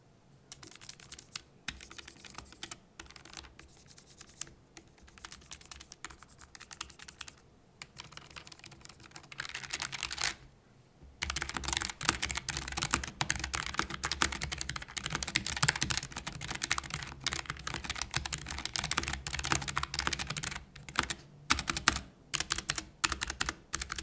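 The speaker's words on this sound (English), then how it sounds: "pretty much all of the larger keys have some form of rattle" Steady clattering of a Logitech G915 TKL mechanical keyboard being typed on, larger keys rattling loudly, growing denser and louder partway through with only a brief pause.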